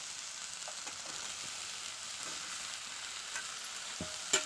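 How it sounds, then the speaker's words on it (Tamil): Mushrooms go into a pan already frying with onion, tomato and grated coconut. A steady, moderate sizzle runs throughout, and a sharp clatter of utensil against pan comes near the end. "இப்போ இதுவுமே வந்து வதங்கிட்டு இருக்கும்போது நம்ம எடுத்து வச்சுருக்கா காளானை சேர்த்துக்கலாம்"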